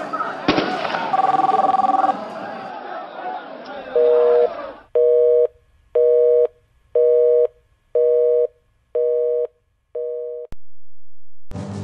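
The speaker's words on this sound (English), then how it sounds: "there's a phone in the White House and it's ringing" A telephone rings in the White House at 3 a.m.: after a short swell of mixed sound, six evenly spaced electronic ring bursts repeat loudly and close, with a final longer tone.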